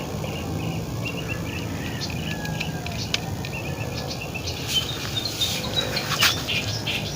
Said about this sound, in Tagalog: So doon ay maraming ibon